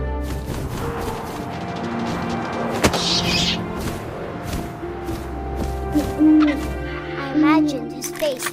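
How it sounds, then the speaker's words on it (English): Owl hoots in the What Remains of Edith Finch video game, a few soft, low calls in the later part over wind and game ambience, with a voice speaking earlier. "And suddenly, I was an owl."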